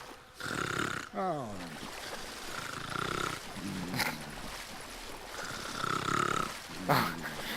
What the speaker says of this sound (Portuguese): O cara tá roncando, meu